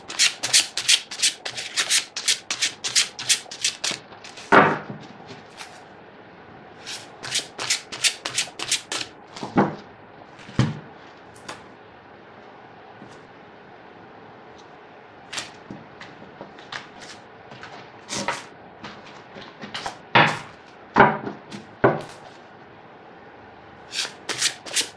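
Lenormand cards, a double deck with two of each card, riffled and shuffled in repeated bursts of crisp, close papery flutters and slaps, with pauses between rounds and no talking.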